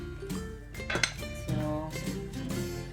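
A spoon working maja blanca mixture around a pot: clattering metallic clinks and scrapes, one sharper knock midway, over a ringing tonal background.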